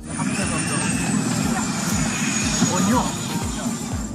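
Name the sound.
firefighting helicopter engine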